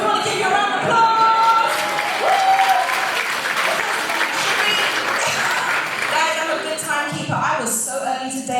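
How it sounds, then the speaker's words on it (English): Audience applause at a tech talk event, loud and sustained throughout, with some voices and cheers mixed into the clapping crowd. "So we want to give you a round of applause!"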